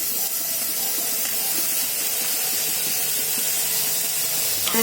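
Chopped onion frying in a pan while making hotel-style chicken handi, giving a steady, close, dense sizzling hiss that holds evenly throughout with faint crackles and no voices.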